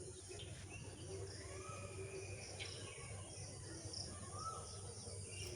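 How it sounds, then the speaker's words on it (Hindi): An Asian koel calls in the quiet early morning at Kichha, Udham Singh Nagar, Uttarakhand: faint rising whistled notes repeat over a steady bed of insect chirring and other distant birdsong. "कोयल की आवाज़ आपको सुनाई पड़ रही है"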